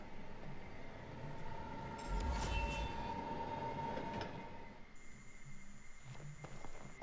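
A train arriving in Final Fantasy XV: a low rolling rumble with metallic screeches and a sustained squeal, then a hissing brake-like tone near the end, quiet and steady throughout.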